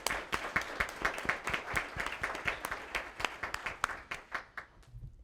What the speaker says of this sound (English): So let's all give a round of applause for Rick and Dan.